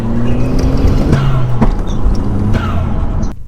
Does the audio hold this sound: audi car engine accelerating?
yes